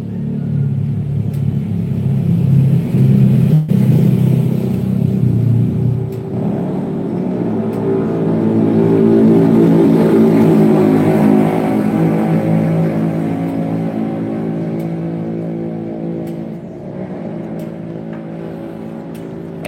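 A CBR motorcycle engine idles and revs close by, rumbling loudly and rising then easing off over about twenty seconds, with a few sharp clicks.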